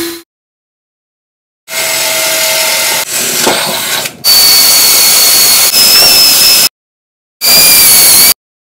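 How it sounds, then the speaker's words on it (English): A power drill bores out spot welds on a car's radiator support to free the upper brackets, loud close whirring in several bursts separated by silent pauses. "So I'm gonna drill out all these spot welds."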